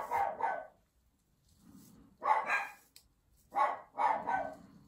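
A dog barks in short bursts of two or three, fairly near, with brief pauses and a softer whimper between bursts.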